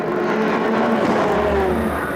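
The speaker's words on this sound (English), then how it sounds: "Peter van Solen using the speed of the BMW to go straight past" A BMW race car in a Supercar Challenge race at Zolder roars past at speed, a loud, close engine whine that rises and shifts in pitch over a couple of seconds, with no voices.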